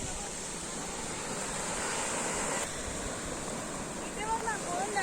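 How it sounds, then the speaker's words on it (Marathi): Sea waves wash onto the shore of a beach with a continuous broad roar and wind noise. A faint voice is heard near the end. "एखादी लाट येते किनाऱ्यावरती."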